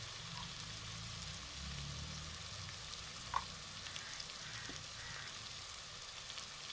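Green chilies and garlic fry with spices in a pan, giving a soft, steady sizzle and crackle throughout, with one brief sharper click partway through; no voices.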